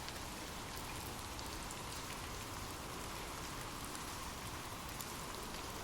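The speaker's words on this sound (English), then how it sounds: "drift off to sleep with rain." Rain falls steadily as an even, dense hiss of drops, loud and unbroken from start to finish, with no voices.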